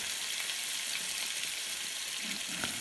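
A Kona coffee crusted lamb rack sears in a hot pan, a steady close sizzle and hiss with faint scrapes underneath.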